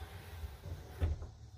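Small cab-area storage doors in a converted 2018 Ram Promaster camper van swing open, giving a soft close-range knock and light clunk over quiet room tone.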